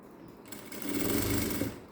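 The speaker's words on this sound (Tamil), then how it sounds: "ஒரு தையல் போட்டு வரேன்" A sewing machine stitches the lining of a princess cut blouse, its motor spinning up into a fast, even whirring run of needle strokes, close and moderately loud, with no voice over it.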